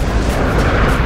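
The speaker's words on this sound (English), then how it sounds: "Artillery!" An artillery explosion in the World War II shooter Rising Storm/Red Orchestra 2, on a winter forest map, heard as a loud, deep, close rumbling roar filling one continuous second, with no talk over it.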